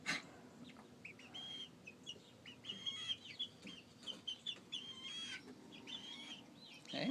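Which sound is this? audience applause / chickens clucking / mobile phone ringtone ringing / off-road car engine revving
chickens clucking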